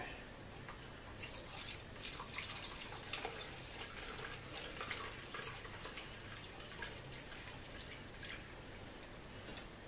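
Home-brewed liquid, apparently a sloe brew, is poured, giving soft, faint trickling and dripping with scattered splashes over a low background hum, no talking.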